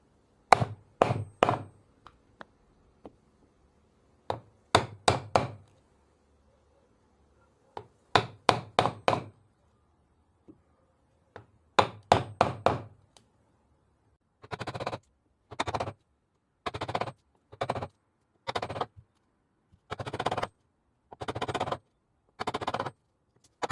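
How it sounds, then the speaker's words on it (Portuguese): Rapid mallet blows drive a Leminos wood chisel into wood to excavate it, sharp knocking strikes in bursts of three to five separated by pauses, then a steadier run of single hits, close and loud with no talking. "agora eu vou usar o formão um pouco com o malho aqui, para ele tomar um pouco de impacto"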